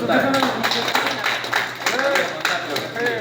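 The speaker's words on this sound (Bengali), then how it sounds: "সবাই আর একবার হাততালি হয়ে যাচ্ছে" Applause from a tour group of Indian Air Force visitors in Assam comes as steady clapping at close range, with voices talking over it throughout.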